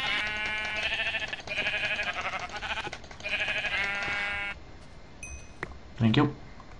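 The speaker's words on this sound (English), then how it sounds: "Sheep, sheep, sheep, sheep, sheep, sheep." Repeated sheep bleats in the Minecraft video game, several loud electronic-sounding calls in a row, followed by a short blip and a brief voice.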